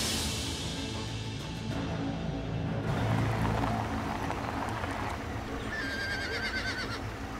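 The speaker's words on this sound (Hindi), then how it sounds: "क्या हम यहाँ घोड़े देखने आए हैं?" Horses neigh amid a dense, steady background of outdoor noise, with a whinny rising in the middle and later higher whinnying calls over the constant ambience.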